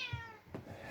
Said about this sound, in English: Oh, my cat just came in.